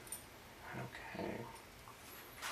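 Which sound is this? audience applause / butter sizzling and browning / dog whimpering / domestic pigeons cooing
dog whimpering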